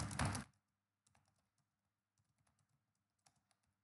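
Short bursts of keyboard typing while a message is entered in C++ code, close and soft in a quiet room, opening with a brief loud noise and followed by a few scattered key clicks.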